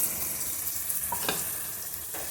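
Green peas frying in a pan with spices, a little turmeric and sugar give a soft, steady sizzle with faint scraping, heard alone at low volume.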